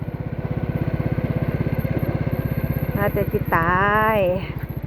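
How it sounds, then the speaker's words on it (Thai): A motorcycle engine idles steadily with a fast regular pulse as the rider pulls up to park beside rice fields, with a voice rising over it near the end. "อ้อยจอดรถก่อน"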